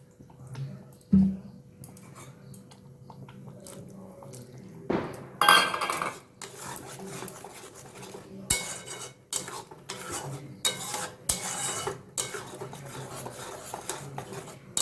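Spices being sautéed and stirred in a pan for a hotel-style potato curry (aloo kosha), with a spoon scraping and clinking against metal in irregular bursts, close and moderately loud, with no talking.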